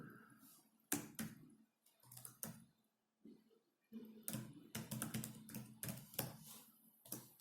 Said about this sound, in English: I'm typing the term here as a message to you.